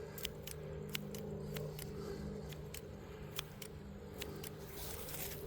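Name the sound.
scissors cutting while setting a trap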